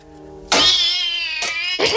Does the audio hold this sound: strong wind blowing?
no